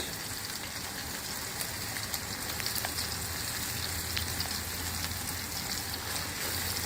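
Vegetable noodles fry in a pan, giving a soft, continuous hiss and crackle with occasional faint stirring scrapes, quiet and even throughout, no voices.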